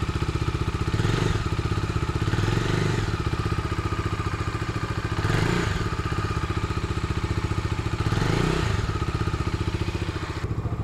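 A Bajaj Dominar 250 motorcycle engine runs at a steady idle with a rhythmic chugging exhaust, swelling in three distinct revs spaced several seconds apart.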